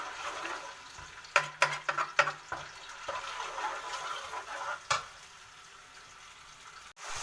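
Alexandrian-style liver sizzles softly in hot oil in a pan while a utensil stirs it, giving several sharp scraping knocks early on over a quiet, continuous frying hiss.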